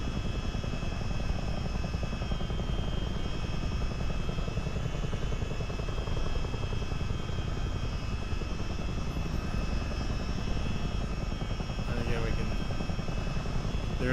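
A CH-47D Chinook helicopter in a flight-simulation game flies low over a town at about 500 feet, its rotor and engine drone loud and continuous throughout, with a voice talking over the steady roar.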